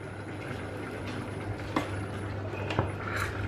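Water poured into a pot of cooking rice, a steady bubbling and trickling wash with a couple of brief splashy accents, close and moderately loud, no talking.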